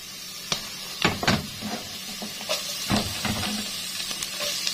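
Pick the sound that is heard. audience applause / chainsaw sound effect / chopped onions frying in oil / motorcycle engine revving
chopped onions frying in oil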